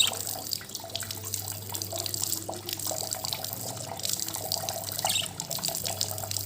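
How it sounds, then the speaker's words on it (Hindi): Warm water pours steadily over a bird cage during washing, a continuous splashing and trickling with scattered drips, close and moderately loud, over a constant low electrical hum. "गरम है पानी इसलिए डाल रही हूँ"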